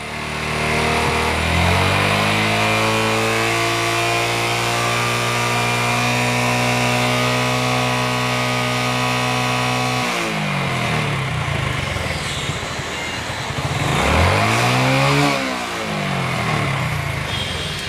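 A Hero motorcycle engine runs and revs up in rising, falling sweeps, loud and close, then settles and revs again, with no talk over it.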